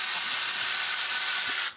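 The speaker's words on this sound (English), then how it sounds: "you take the drill... What could go wrong?" Power drill boring through a wicker basket, a steady high-pitched whine held for nearly two seconds, close and loud, then cutting off abruptly.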